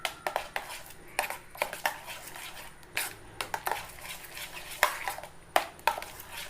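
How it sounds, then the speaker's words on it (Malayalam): A spoon stirs a milk and vanilla essence mixture in a pan just taken off the stove, giving a run of close, sharp metallic clinks and scrapes in an uneven rhythm, with no talking. "നല്ല മിക്സ് ചെയ്യുക."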